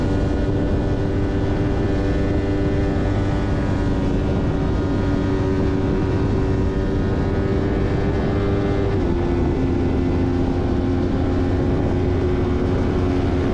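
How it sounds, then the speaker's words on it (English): A race car at full throttle on the Phillip Island circuit, a loud, steady engine drone heard from inside the car with constant wind and road roar, the pitch holding high, then stepping down briefly on a gear shift. "get right on the throttle, right out of MG, and just full throttle the whole way to turn 1"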